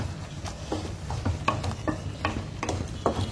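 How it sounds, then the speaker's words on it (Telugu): Chili powder and masala paste fry in a pan for a fish curry, giving a steady low sizzle. A spoon scrapes and stirs over it in short, repeated strokes. "ఇలా వేసుకోవడం వలన తొందరగా వేగిపోద్ది అన్నమాట ఈ పేస్ట్"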